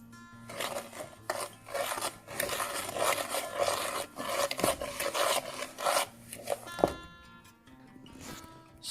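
Sugar mixed in a bowl, close gritty rasping and scraping strokes in irregular bursts with short pauses and a few sharp knocks.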